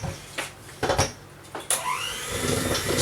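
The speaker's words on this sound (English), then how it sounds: "Start your mix off on a low setting." An electric hand mixer starts up on a low setting, beating eggs, milk and flour into cake batter, with a few stop-start bursts before settling into a steady whirring drone, close and loud.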